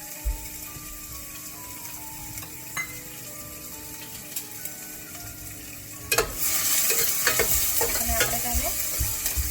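Finely chopped medium onion hits a hot pan for a restaurant-style dal fry, bursting into loud sizzling about two-thirds through, with a spoon scraping and stirring; before that, quieter pan clinks and light frying tick along.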